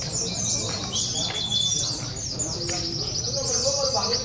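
Songbirds at a bird singing contest pour out continuous high, rapid chirps and trills, several birds overlapping loudly, with a murmur of people talking underneath.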